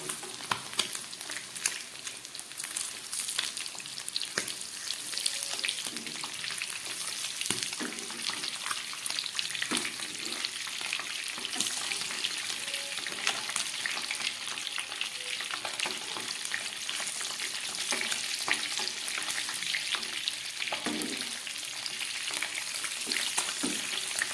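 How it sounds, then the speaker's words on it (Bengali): Steady, crackling sizzle of eggs frying in a pan, continuous and close, with occasional soft scraping; no voices. "ভাজা হয়ে গেছে আমি এবার একটা চাকুর সাহায্যে এগুলোকে উল্টে দেবো"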